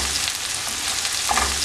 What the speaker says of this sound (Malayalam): ഞാനിവിടെ ഒരു ഒന്നര കപ്പോളം ചെറിയ ഉള്ളി എടുത്തിട്ടുണ്ട്. അത് നല്ലതുപോലെ ഒന്ന് വഴറ്റിയെടുക്കണം.